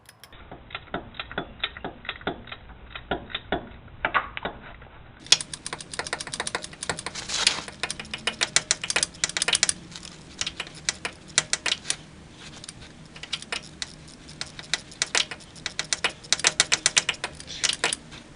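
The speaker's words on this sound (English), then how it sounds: "the first bolt we're going to remove is this one here on the back of the starter underneath, and you're just going to need a 13mm socket and ratchet" A 13mm socket and ratchet working loose a rear starter bolt underneath a Ford F350, giving rapid, close clicking ratchet pawls in dense irregular bursts that continue throughout.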